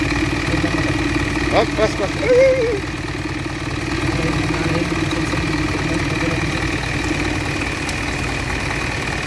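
An Isuzu 4HK1 diesel engine idles steadily and close by, a continuous low throb running throughout, with a brief voice and a few light knocks early on.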